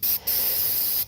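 A loud, close aerosol spray-paint can hisses in two bursts, a short one and then a long steady one, with a brief pause between them.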